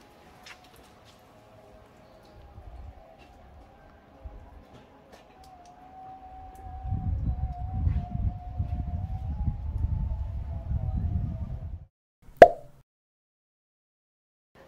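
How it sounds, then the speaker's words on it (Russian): A faint, distant Islamic call to prayer (adhan) drifts over a city in Lebanon as a long wavering chant, with gusty low rumble building midway and a sharp knock near the end. "И сейчас у нас азан на молитву."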